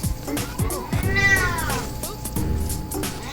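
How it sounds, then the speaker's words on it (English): A cat meows several times in a kitchen where lasagna is being made, rising drawn-out cries close by with soft clatter between them. "My cat seems very excited about this lasagna, as you can tell"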